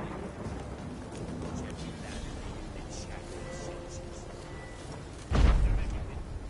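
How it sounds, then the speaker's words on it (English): Thunderstorm in The Witcher 3: Wild Hunt, with steady rain hissing throughout and a sudden loud thunderclap near the end that rumbles on as it fades. "A storm, damn it."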